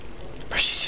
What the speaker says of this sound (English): Why is the water on?